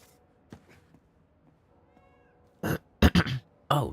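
A cat meows several times in an Indiana Jones video game, the first faint and the last cluster loud and close, short separate calls over quiet game ambience.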